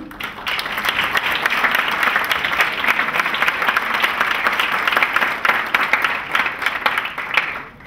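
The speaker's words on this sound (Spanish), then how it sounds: "Los voy a mencionar para que les demos un fuerte aplauso" An audience at a sustainable-building lecture session in Mexico breaks into steady, loud applause for an architect being introduced, a dense wash of many hands clapping continuously until it tapers at the end.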